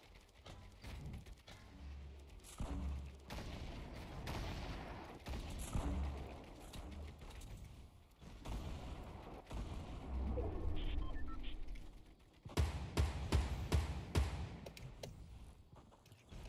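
Bursts of video game gunfire crack and boom across a battle royale match, with repeated volleys and heavier blasts scattered throughout, loud and close at times, mixed with faint talk in the background.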